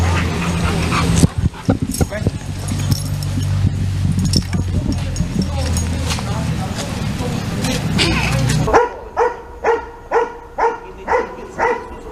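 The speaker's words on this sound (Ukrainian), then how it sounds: "Зараз ми зробимо тренувальний пуск для того, щоб ви побачили, як працює собака в реальних умовах." Police search dog at a training run in Ukraine's Ternopil region, giving a steady series of about seven evenly spaced barks after a stretch of loud outdoor noise and voices.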